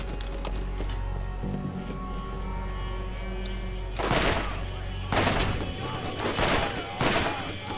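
Assault rifle fire in the video game Borderlands, with several loud bursts of shots at about 4, 5, 6.5 and 7 seconds over a steady in-game background.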